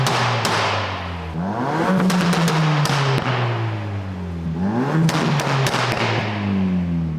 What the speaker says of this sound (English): let's see how good this exhaust sounds